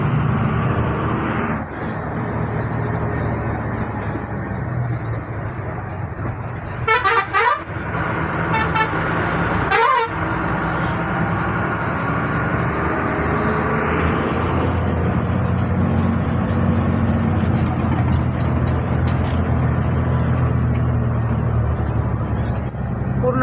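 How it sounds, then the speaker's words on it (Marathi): A car travels a winding mountain road through thick cloud, giving a steady, close engine and road rumble throughout, broken by two short horn toots partway through. "पूर्ण ढगामधून गाडी जात आहे"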